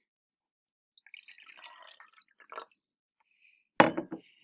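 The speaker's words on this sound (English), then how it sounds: "I'm going to pour some icy cold water in here." Icy cold water is poured into a glass, first as scattered faint trickles and drips, then with a louder splash of liquid near the end, close up with no talk.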